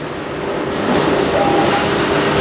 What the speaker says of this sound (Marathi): हे आहे with dryer papad making machine